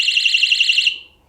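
A ROCKBROS electronic bike bell blares a warbling, car-alarm-like siren tone, loud and steady for under a second before cutting off and fading.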